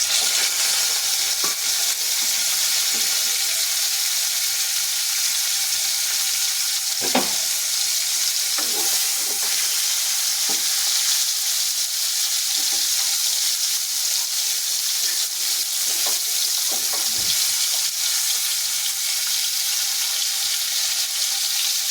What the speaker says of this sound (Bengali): এবার আমরা চিংড়ি মাছগুলো দিয়ে দেবো।